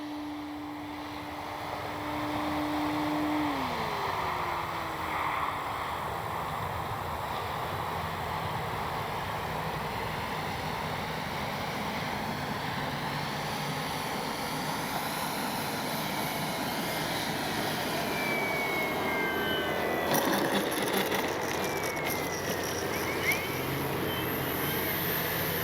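An Avios Extra NG RC airplane flies through the evening air, its electric motor whining steadily and shifting pitch as it passes, sometimes fading back and sometimes drawing nearer.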